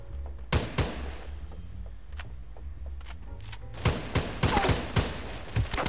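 Rapid shotgun blasts in the battle-royale shooter Knives Out, sharp loud reports fired in quick bursts with short gaps, then a denser cluster of shots near the end.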